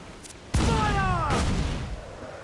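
A ship's cannon booms in the Assassin's Creed Black Flag naval battle, one heavy blast followed by a rolling, rumbling tail with whistling tones and a second thud, loud and close with no talk over it.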